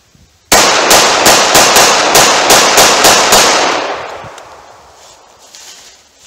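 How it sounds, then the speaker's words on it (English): A .45 ACP pistol fires ten rounds in quick succession at 7 yards, loud sharp evenly spaced cracks in a fast steady rhythm, followed by a ringing echo that slowly fades to quiet. "All right, 10 rounds with the 45 auto. Let's see how quick I can do that from 7 yards."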